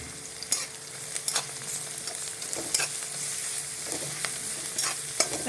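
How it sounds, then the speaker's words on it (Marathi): Garlic and ginger paste frying with precooked rice for veg pulao, a soft continuous sizzle broken by repeated scraping clicks of a spoon as the pan is stirred. "आता आपण त्याच्यामध्ये लसण आणि अद्रकची पेस्ट टाकणार आहोत"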